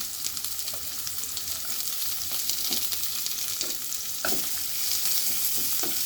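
Soaked sidol fries with onion and garlic in a wok, a steady close sizzle with occasional scraping stirs of a spatula throughout, no talking.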